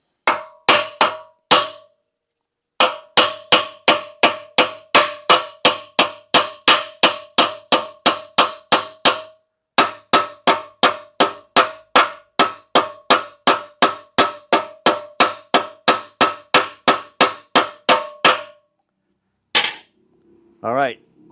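Steady hammer blows ring out as rivets on a hub are peened on a Wazer Pro waterjet build, about forty sharp metallic strikes in fast regular runs with brief pauses, loud and close, ending with a short different clatter.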